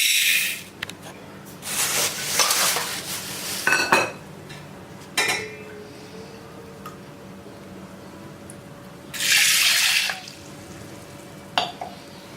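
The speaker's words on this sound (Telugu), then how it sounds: "ఈ కందిపప్పు శుభ్రంగా ఇలా కడుక్కోవాలి." Toor dal lentils washed by hand in water inside a pressure cooker, heard as several bursts of wet swishing and sloshing with quieter gaps between them and a faint steady hum underneath.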